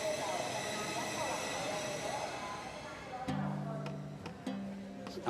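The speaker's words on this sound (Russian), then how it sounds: "А вот и поезд." A high-speed passenger train pulls into a station in Laos, its steady rumble and hiss giving way to a loud, sustained two-tone horn blast broken by short clicks, with a person talking nearby.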